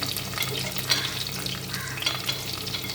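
Ginger, garlic and green chili fry in a hot pan on a stove, a soft continuous sizzle with scattered crackles and occasional stirring scrapes, close and fairly quiet.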